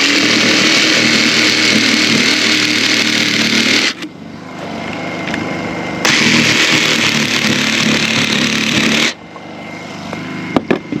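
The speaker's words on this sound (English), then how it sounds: "take my jigsaw" A jigsaw cuts through a board for a wishing-well style cover, running loud and buzzing in two long bursts separated by a brief pause, then trailing off with faint knocks.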